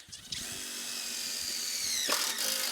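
A power drill drives a screw straight in without a pre-drilled hole, a steady high whine that runs close and loud, dips briefly as the load shifts, then carries on.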